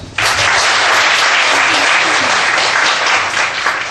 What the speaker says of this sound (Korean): 하나님 박수 하시겠습니다.